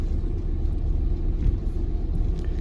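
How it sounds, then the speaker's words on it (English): Van engine labouring up a steep hill on a Guernsey road, a steady low rumble and drone heard from inside the vehicle. "Quite a steep hill. This van's struggling a little bit to get up here."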